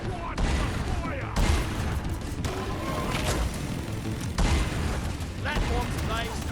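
Video game weapons, including a sticky grenade and a dart rocket, fire in dense, loud bursts of gunfire and booms, nearly continuous throughout, while a voice calls out over the barrage.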